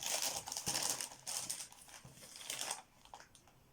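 Wrapping paper crinkles and tears open on a soft, thick Christmas present, a run of loud rustling bursts and crackles close by, tapering into quieter scattered crinkles near the end.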